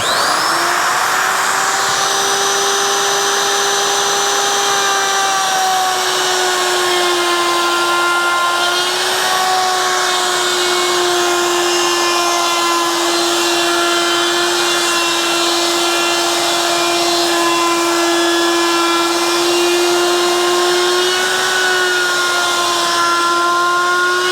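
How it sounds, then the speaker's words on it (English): A router rounds over the edges of a wooden Halloween coffin, giving a loud, continuous high whine at a nearly constant pitch with slight dips as the cut changes, close and unbroken. "we're just going to get the router and go right around this thing"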